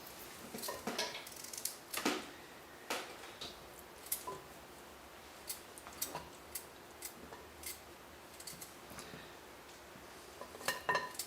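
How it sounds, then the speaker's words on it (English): Knife work cutting a whole coconut into small chunks, a quiet series of irregular clicks, taps and scrapes spread across the clip, close by with no voice. "cutting up a whole coconut like this into little bitty sections"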